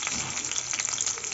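Onions and tomato frying in a pan, a soft steady sizzle with faint crackling, quiet and continuous over a short moment with no voices.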